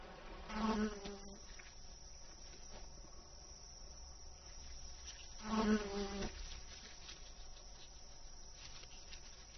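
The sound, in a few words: wasps buzzing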